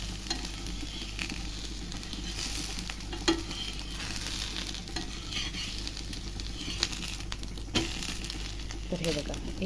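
A freshly flipped onion uttapam sizzles in a pan with a dense, even crackle, close and steady, with occasional sharp spatula clinks and a few quiet background sounds.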